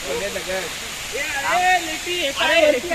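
Valvali waterfall, a hidden waterfall near Panvel in Navi Mumbai, pours with a loud, constant rush of water while several people talk and call out close by over the roar.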